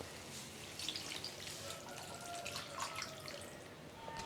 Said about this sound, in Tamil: இப்போ இதில் தேவையான அளவுக்கு தண்ணி சேர்த்துக்கலாம்.